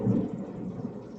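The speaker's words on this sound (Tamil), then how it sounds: "இடிலாம் அடிக்குது." Thunder rumbles low and steady through a rainstorm, a deep continuous roll with no voices.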